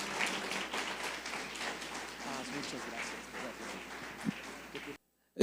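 Audience applause welcoming a pastor at a leaders' and pastors' meeting, a steady dense wash of many hands clapping that holds for about five seconds and then cuts off abruptly.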